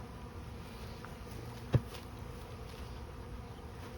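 Honey bees from a freshly installed package colony hum steadily and up close, a continuous dense buzz that holds throughout with one brief knock partway through.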